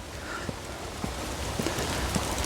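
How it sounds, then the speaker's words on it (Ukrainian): Rain falls outdoors during a walk near the sea, a steady soft hiss with scattered light taps and drops throughout. "І знов дощик припустився."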